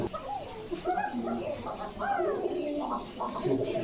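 Pigeons at a fancy pigeon market coo in soft, overlapping calls, with chirps and market chatter blended into a steady, busy background.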